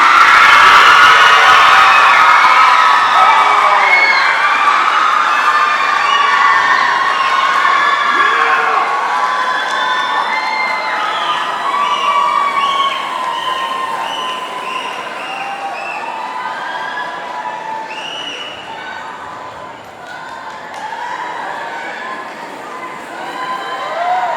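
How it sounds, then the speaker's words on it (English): Large crowd applauding, cheering and whooping for the winners of a Hmong dance competition at Fresno Hmong New Year, a loud sustained roar with children shouting, starting strong and tapering slightly before swelling again near the end. "Please give a big round of applause for Leng Wong Hong"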